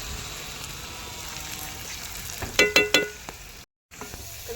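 Onions sizzle and fry in a pot over a wood-fired stove while being stirred, with a steady crackle and a few sharp scraping clatters near the end before a brief drop to silence.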